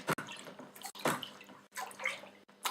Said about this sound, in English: Give it another good stir.